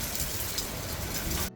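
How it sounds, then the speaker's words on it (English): Steady rain falls outdoors on a cosy rainy day, a dense even hiss of drops on surfaces that continues evenly throughout and cuts off abruptly at the end, with no voices. "the rain was still not letting up"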